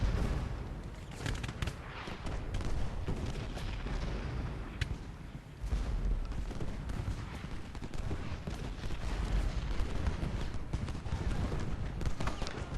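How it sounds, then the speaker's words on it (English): Musket volleys and cannon fire from a Civil War Gettysburg battle in the strategy game Ultimate General: Gettysburg form a dense, continuous crackle of distant gunfire that rolls on without a break. "Davis is taking heavy fire."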